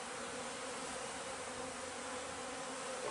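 Honey bees swarm around an open hive frame while a beekeeper rears colonies, a dense, continuous buzz filling the air close by at a steady level.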